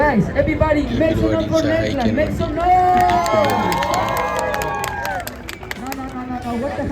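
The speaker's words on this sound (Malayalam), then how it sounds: "കാണികളൊക്കെ തന്നെ ഇത് കൈയടിച്ച് പ്രോത്സാഹിപ്പിക്കുന്ന ഒരു കാഴ്ചയാണ് നമ്മൾ കണ്ടുകൊണ്ടിരിക്കുന്നത്" Spectators at a New York street event whoop, shout and cheer loudly, with children's voices rising through a dense, continuous crowd din that stays close throughout.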